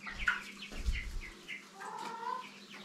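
Chickens cluck and chirp in a farmyard coop, a few short close calls over a faint hum, with a brief murmur of voice at the start.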